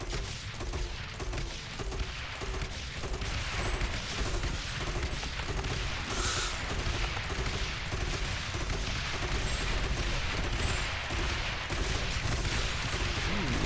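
Mortar towers in the tower-defense game Rogue Tower fire a steady barrage, muffled booms and crackling shots layered densely throughout over a constant busy game din, with no voices.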